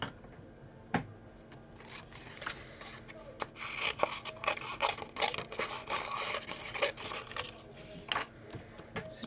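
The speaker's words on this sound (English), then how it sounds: "So just cut round the edges. Leave a wee white border." Paper card stock being cut around its edges for a handmade Valentine's Day chocolate card, giving soft, close scratching and rasping snips in an irregular run with faint room noise.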